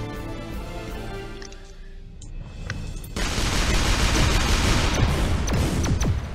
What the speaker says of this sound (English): we're gonna rapid fire this dude over here